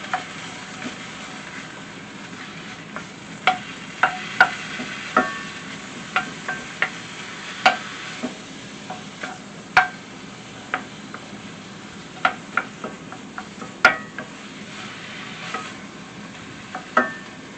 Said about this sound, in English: I've got some hamburger meat that I've started cooking.